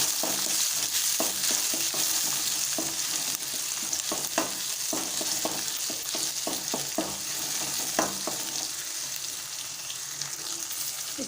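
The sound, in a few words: onions and tomatoes sautéing and stirred in pan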